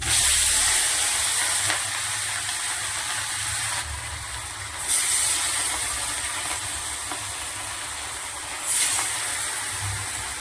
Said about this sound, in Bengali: আমার মাছ ভাজা চলছে।